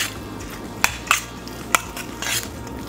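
Parsley stuffing for a smoked pork roast being mixed in a bowl, a few sharp utensil clinks and scrapes against the bowl over a quiet background.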